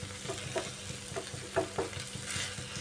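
Pointed gourd curry in a pan with stirring and frying sizzle, as water is poured in: steady close sizzle with soft periodic stirring scrapes and light splashy bursts, no talking.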